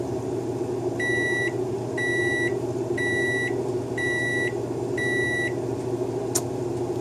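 A microwave oven timer beeps five times in a steady one-per-second rhythm, each tone clear and bright over a constant low kitchen hum, with a short click near the end.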